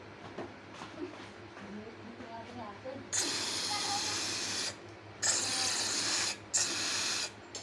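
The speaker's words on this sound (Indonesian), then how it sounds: "hati-hati kalau semprot-semprot karbu cleaner seperti ini ya, perih kena mata" Carburetor cleaner sprayed onto the carburetor of a Yamaha Mio scooter: three loud, close hissing bursts of aerosol, each lasting about a second or more, separated by short pauses, following a stretch of quieter background sound.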